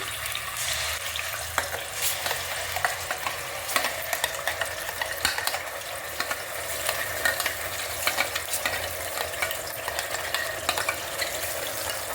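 Onion and tomato paste fries steadily in hot oil for mutton curry, a continuous close sizzle with scattered crackles and spoon scrapes running throughout, with no voices.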